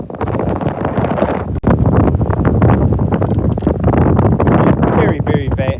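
Strong wind roars and buffets over a lake on a bass-fishing boat, loud, constant and close, with sharp gusts thumping the microphone and a brief cut partway through.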